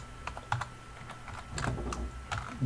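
A computer keyboard typing a search term, with quick irregular clicks of keys close by across a couple of seconds over a faint room hum and no talk.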